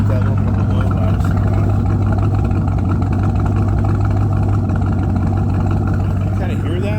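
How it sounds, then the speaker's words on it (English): A limited-production Chevrolet Camaro sits with its engine running close by, a loud, deep, rumbling exhaust note with a steady low throb throughout and no sharp revs. "Let me give you a little bit of a exhaust note to it."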